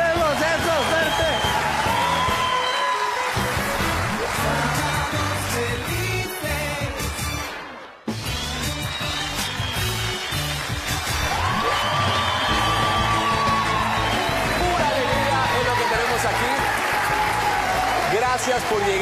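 Studio audience applause and cheering for a comedian on the Chilean TV show Sábado Gigante's Chistómetro segment, a loud sustained crowd roar with whoops that briefly drops out near the middle, mixed with talk.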